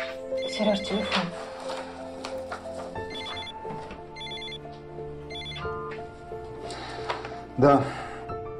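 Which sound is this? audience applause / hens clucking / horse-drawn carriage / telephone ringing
telephone ringing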